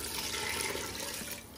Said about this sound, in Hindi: इसके अंदर मैं 6 कप पानी का डालूंगी